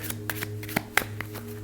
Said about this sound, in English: start by executing a few false shuffles as you talk about the trick